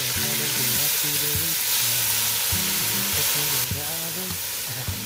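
Garlic and tomatoes stir-frying in a hot pan give a loud, steady sizzle with scraping stir strokes throughout, with no voices.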